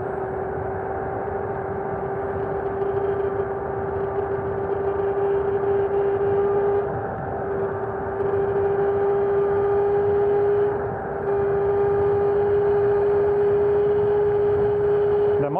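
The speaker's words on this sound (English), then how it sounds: "The motor is making some noise" Xiaomi M365 electric scooter fitted with a 500W motor and 12S battery, whirring steadily at speed with a sustained tonal hum and road noise, fairly loud and continuous throughout.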